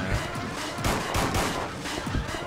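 Rapid bursts of gunfire from the horror video game Haunting Ground, dense overlapping shots packed close together in a loud, harsh volley that keeps going.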